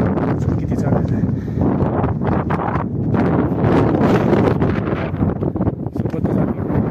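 Strong wind at a hilltop viewpoint on a trek to the Kanheri Caves, loud continuous gusting and buffeting against the microphone, with a voice talking under it.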